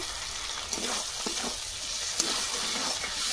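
Spice paste of turmeric and slit green chilli frying in a pan for a Bengali fish curry, a steady close hissing sizzle with soft scraping stirs and occasional small pops.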